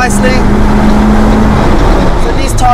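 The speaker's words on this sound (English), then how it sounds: "So DC5 Integra Type R, there's the VTEC, pulls so nicely." A Honda Integra Type R DC5 engine revs up hard in VTEC while accelerating on daily tyres, a loud sustained engine drone heard from inside the car with a voice talking over it.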